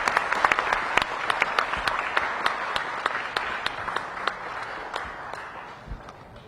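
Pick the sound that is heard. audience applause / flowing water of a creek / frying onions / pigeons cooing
audience applause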